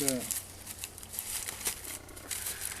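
Thatching straw is pulled apart by hand in a series of close, dry crinkling and tearing rustles that come in short irregular bursts, quiet and close.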